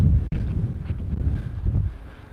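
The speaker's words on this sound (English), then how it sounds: "It's just that it's getting windy again." Wind gusts buffet the microphone outdoors in a steady low rumble, with a brief dropout near the start and swelling surges throughout.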